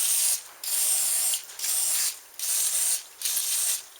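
Canned grease sprays onto Ford 9 inch differential parts in five loud, close hissing bursts of about half a second to a second each, separated by short pauses.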